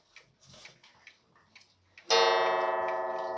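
A clock in a Chinese clock case ticks softly, then strikes a single loud, bright chime that rings on and slowly decays, close by.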